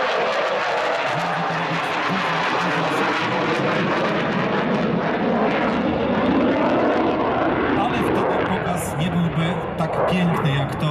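Sukhoi Su-27 Flanker jet fighter at the Aerobaltic 2019 air show in Gdynia, its loud, continuous engine roar filling the air during a slow, high-angle-of-attack display, with a commentator talking over it throughout.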